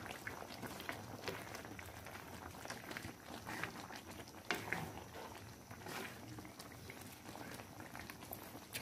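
Chicken kare-kare sauce with bagoong simmering and being stirred in a pot at home, a steady, fairly quiet bubbling and hissing wash with faint scraping.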